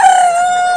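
At a rural poultry market where ducks, chickens and pigeons are sold, a rooster crows once, loud and close, in a single brief drawn-out call that ends abruptly, with no talking over it.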